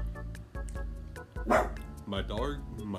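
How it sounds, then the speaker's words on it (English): A dog barking indoors in short, sharp, close bursts, with someone talking over and between the barks. "My dog is barking in the middle of filming."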